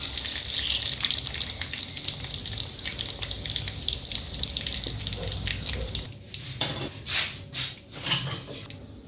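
Paneer pieces fry in oil in a pan with a loud, dense crackling sizzle that fades after about six seconds into a few scattered clatters and swirling splashes.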